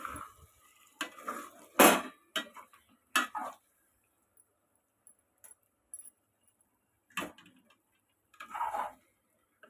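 A spoon stirs leftover chili powder into tomato fish curry in a pot, giving several short scraping and clinking knocks against the metal, close and moderately loud, in irregular bursts with quiet gaps between.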